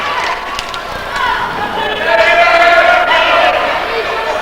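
A loud crowd at a regional championship wrestling show cheers and yells steadily, a dense continuous roar with whistles and shouts rising midway and holding.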